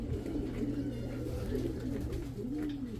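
Racing pigeons at a loft give soft, repeated low coos that roll on continuously, fairly close, under a faint background hum.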